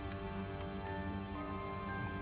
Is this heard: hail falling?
yes